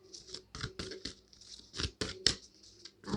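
Tarot cards being handled and shuffled by hand, a string of short crisp riffling and snapping bursts in an uneven rhythm, close and fairly quiet, with no talk over them.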